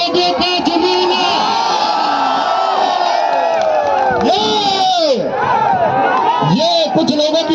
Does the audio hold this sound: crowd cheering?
yes